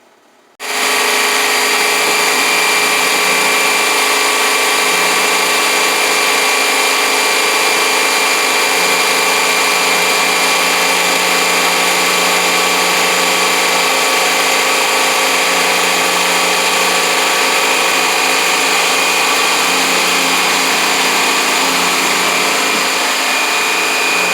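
A Shopsmith woodworking machine starts up after half a second and runs on with a loud, steady motor whine, unchanging and alone for the rest of the stretch.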